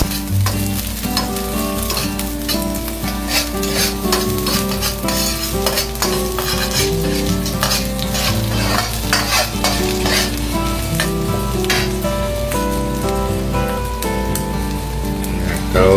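Garlic and shallots fry in a pan for Japanese-style vegetable fried rice, a continuous close sizzle broken by stirring scrapes, with faint background music.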